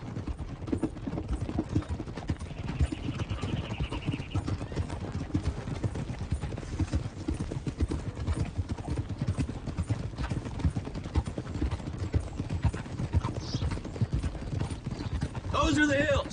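Steady clip-clop of several horses' hooves galloping in a video game, continuous and fairly loud throughout, with a voice speaking briefly over it.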